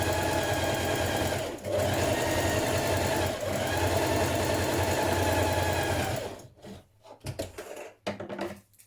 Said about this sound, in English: stitch a line of ease stitching around the top of the shoulder from your markings